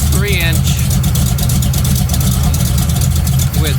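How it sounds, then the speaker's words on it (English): A green Chevrolet truck engine with dual 3-inch exhaust, two glass packs and two Super 10 Flowmaster mufflers rumbles loudly and steadily at idle, a deep continuous drone with brief higher chirps at the start and end. "with 2 glass packs and 2 Super 10 Flowmaster exhaust mufflers."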